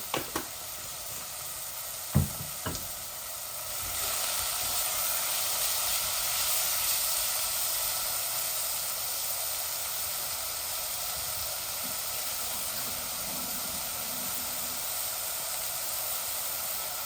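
Meat and potatoes cooking in a pan, a steady hiss and sizzle that swells after a few knocks at the start and then holds at an even, close level with no talk.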